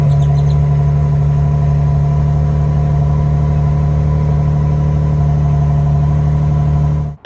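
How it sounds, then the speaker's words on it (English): A steady, deep exhaust rumble from an idling 2025 Toyota Tundra V6 pickup truck with a TRD exhaust, loud and close, with a constant low drone and no talking. "the TRD exhaust for a 6-cylinder engine actually sounds pretty decent"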